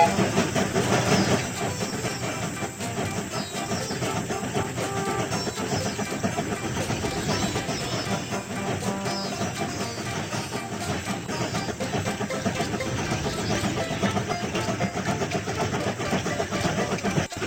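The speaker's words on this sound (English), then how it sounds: "The train is about to start." A cartoon toy train gets under way in a kids' animation, its chugging and clacking rail sounds mixed under a busy, constant music bed at steady loudness.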